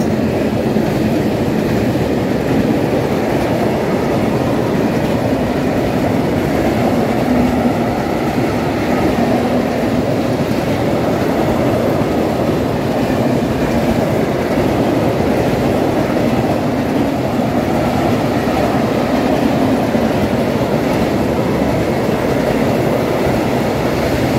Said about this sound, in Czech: velikánský vlak dříví